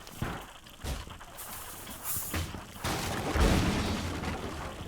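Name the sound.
explosion in a video game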